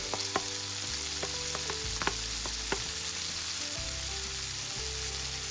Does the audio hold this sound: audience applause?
no